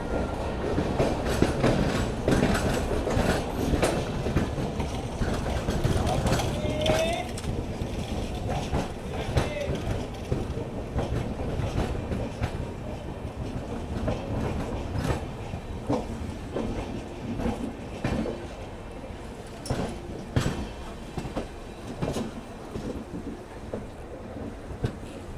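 Gomateshwara Express running from Mangaluru toward Bengaluru, pulling away from Hassan Junction: a steady loud roar of rolling coaches with rhythmic clicking over rail joints, rumbling throughout with no pauses.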